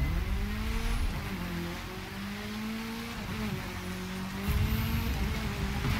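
A rally raid car boosts in The Crew 2, its engine droning with a steady rising and falling whine over rumbling tires, loud and continuous with a few pitch shifts as it accelerates.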